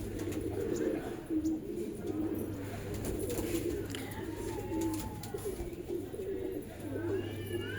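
Yusuf pigeons in Allahabad give low, throaty coos up close, repeated in rolling phrases over a steady background hum, with a few faint chirps from other birds.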